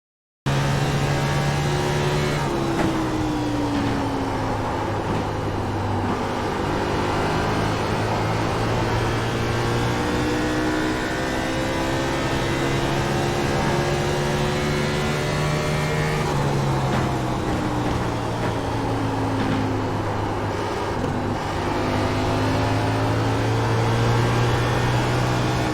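A race car engine howls steadily through a full simulated lap of ISM Raceway in iRacing, its pitch sweeping up and down through gear changes and corners, loud and continuous with no talking.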